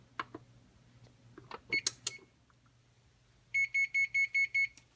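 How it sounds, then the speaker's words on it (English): A kitchen oven beeps after preheating to 170 degrees Fahrenheit, giving a rapid series of six loud, even electronic tones near the end, preceded by scattered clicks and clatter. "As soon as I hear that beep indicating the oven just reached 170 degrees Fahrenheit"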